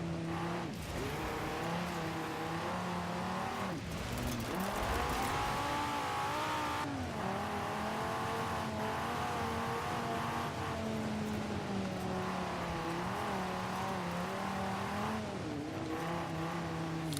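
A car engine in the racing game Forza Horizon 4 revs and drones steadily throughout, pitch rising and falling with throttle changes, loud and close with no talking.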